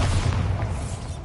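Bombarda blasting spell from Hogwarts Legacy erupting in a loud, deep, rumbling boom that fills the short moment on its own, with a broad noisy burst sustained throughout.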